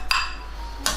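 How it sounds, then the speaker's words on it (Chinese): Cooked rice stirred with chopped spring onions in a rice cooker, a spoon scraping and clinking against the pot at the start and end of a short, quiet moment. "饭煮好了之后，再来加入葱花拌一下"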